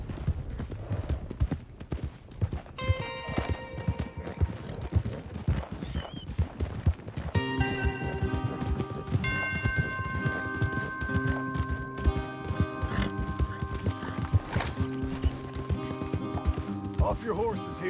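Horses clip-clopping at a steady trot and gallop in the Red Dead Redemption video game, with hoofbeats continuing throughout under a sustained musical score that builds partway through.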